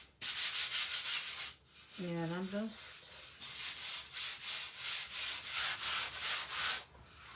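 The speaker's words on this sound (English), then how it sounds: "And I'm going to use my sanding block. This is 120." A 120-grit sanding block rubs across wood in steady, rhythmic back-and-forth strokes, close and loud throughout, with a brief spoken phrase partway through.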